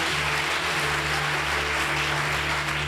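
A church congregation applauds with dense, continuous clapping that holds steady and loud throughout, with a low hum beneath it.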